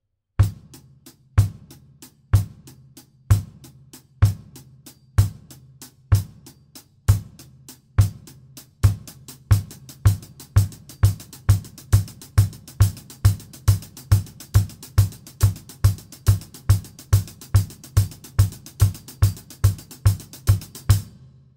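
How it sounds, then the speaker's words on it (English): Bass drum on a drum kit from a solo, first sparse spaced kicks, then a steady continuous stream of triplet-grouped kicks, punchy and close with no talking. "it's one bass drum to your group of triplets, which is three notes."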